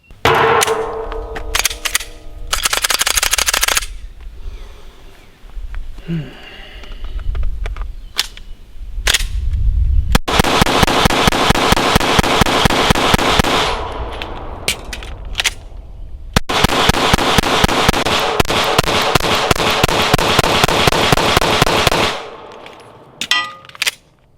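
Loud, sharp FN 509 pistol gunshots at a shooting range crack out singly and in rapid strings, with pauses between volleys, punctuated by metallic clanks and handling noise.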